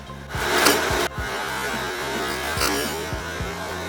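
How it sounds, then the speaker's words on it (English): A sharp-pointed vernier caliper is pressed against spinning wood on a lathe under the motor's hum, giving scraping rubs and a couple of harsh, brief catches at close range. "taking measurements with a sharp pointed tool on a spinning piece of wood"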